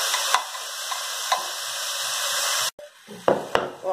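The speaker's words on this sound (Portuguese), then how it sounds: "Agora eu coloco o tomate e vou deixar ele lá no fogadinho também." Tomato fries in a very hot pan for a sweet potato and chicken croquette filling, with a loud, steady sizzle that cuts off abruptly, followed by a few sharp utensil knocks and scrapes as the pan is stirred.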